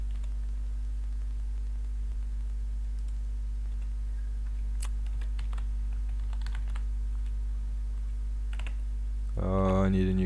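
Sparse clicks of typing on a computer keyboard sound faintly over a steady low electrical hum, and a voice begins near the end.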